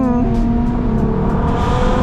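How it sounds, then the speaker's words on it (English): A Lamborghini engine roars during a street race, heard from inside a pursuing Nissan GTR, with a steady loud drone and rising revs throughout, close and dominant with no speech. "the Lambo sounds sick"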